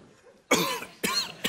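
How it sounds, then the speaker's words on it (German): Three harsh coughs from a man at a lectern, close and loud, each one sharp and short, the last cut off briefly. "ich muss immer husten, wenn ich lüge"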